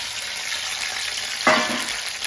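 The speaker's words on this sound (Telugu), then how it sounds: "పచ్చిమిర్చి అయితే ఫ్రై అవ్వాలండి." Green chilies frying in hot oil, a steady hiss broken by a sharp burst of sizzle midway as something is stirred or dropped in, then settling back to an even crackle.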